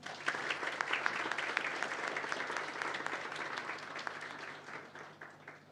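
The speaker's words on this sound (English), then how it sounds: "Let us appreciate our panelists and moderator with a huge round of applause." An audience at a business school HR conclave applauds panelists and a moderator with steady, fairly full clapping and a faint low hum beneath it throughout.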